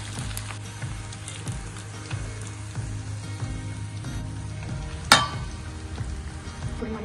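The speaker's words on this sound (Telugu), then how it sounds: "ఇంకా కొంచెం ఫ్రై కానిద్దాం" Fish fries in oil for a fish fry with a steady, soft sizzle throughout, broken by one sharp clink partway through, close and without talk.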